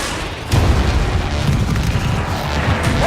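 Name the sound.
missile launch and explosion in Battlefield 4 video game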